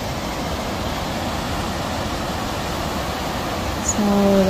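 Gullfoss waterfall on the Hvita River in Iceland gives off a loud, steady broadband roar. A brief tonal sound cuts in near the end.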